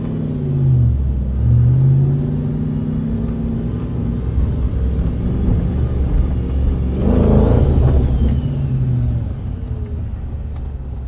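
A car driving at speed down the motorway, a loud steady engine rumble with rising and falling tones and wind noise, close from inside the cabin, a swelling surge partway through.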